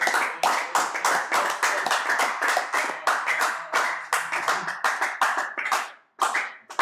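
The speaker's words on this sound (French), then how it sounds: "Acclamons très fort le Seigneur." A church congregation at a prayer service claps rhythmically together, a steady, close burst of hand claps that keeps on for several seconds and breaks off briefly near the end.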